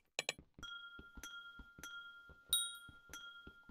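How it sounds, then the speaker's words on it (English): Glass breaking sounds from a Hypixel Skyblock gemstone sound pack in a video game: a rapid series of crisp, bright glassy clinks and shatters, some ringing briefly, quiet and alone without talk. "want to show you guys the glass breaking sounds."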